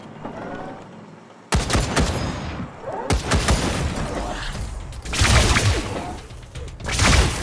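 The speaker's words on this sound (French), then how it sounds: "Oh, c'est des tourelles laser." Laser turrets fire in Wasteland 3 in loud, abrupt bursts of crackling blasts after a quiet start, with several heavy volleys following one another closely.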